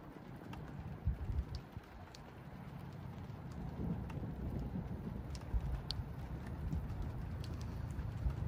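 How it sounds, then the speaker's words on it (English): Steady rain hisses throughout, with scattered drops pattering nearby and a few louder taps; no voices. "You can hear it's raining again."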